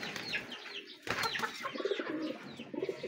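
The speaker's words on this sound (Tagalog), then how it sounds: "Gandang kalapati." Pigeons cooing in a loft, soft repeated coos with some rustling and wing movement close by, moderately quiet.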